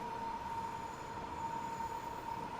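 A Class 90 electric locomotive in Freightliner livery running in Train Sim World, a steady low rumble of rolling stock under a constant whining tone, even and unbroken throughout.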